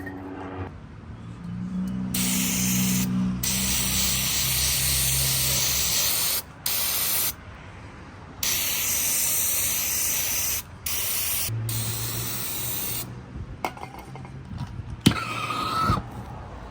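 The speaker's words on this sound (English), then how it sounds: "spray this down with brake cleaner all around" Brake cleaner hisses from an aerosol can onto an NA Miata differential outdoors in several long, loud spray bursts separated by short pauses, with a few metallic clicks and knocks toward the end.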